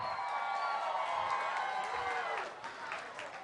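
Audience at an evening event with an open bar cheering and clapping together, a dense, steady wash of applause and whoops that tapers slightly toward the end.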